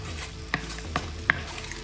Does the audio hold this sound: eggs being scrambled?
yes